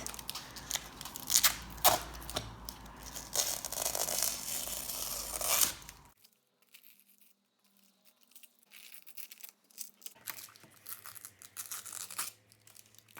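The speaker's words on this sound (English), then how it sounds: "now it's time to take these tapes off" Masking tape being peeled off a finished acrylic pour painting of balloon flowers: close, crackly tearing and ripping for about six seconds, then near silence, with a fainter rustle returning toward the end.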